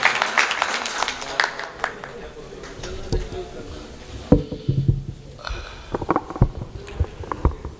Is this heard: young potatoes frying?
no